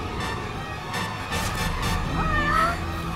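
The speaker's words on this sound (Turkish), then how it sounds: "Miyav kedicik." A cat meows in the video game Gravity Rush Remastered, a short high mewing cry rising over the game's steady background music and ambience, heard once near the end.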